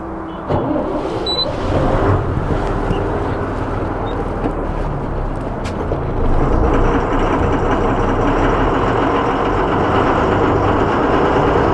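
Loaded goods truck rolling along, a continuous broad rumble of engine and road noise at steady volume with a faint tonal whine, no one talking.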